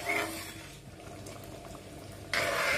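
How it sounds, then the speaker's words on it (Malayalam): Second coconut milk simmering in a pot of Vishu kanji, a steady bubbling boil that is loud at the start, eases off in the middle and swells again near the end, with no talk over it. "രണ്ടാം പാല് ചേർത്തിട്ട് നന്നായിട്ടൊന്ന് തിളക്കണം"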